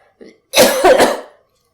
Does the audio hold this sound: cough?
yes